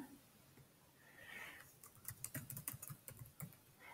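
Soft, quick keystrokes patter on a computer keyboard as a password is typed, the clicks faint and irregular with no talk over them.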